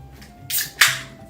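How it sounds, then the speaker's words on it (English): A beer can cracked open close by: a short, sharp metallic click and hiss, followed by a second brighter burst of fizzing release, with no talking. "Nothing like cracking a beer at 10:30 in the morning"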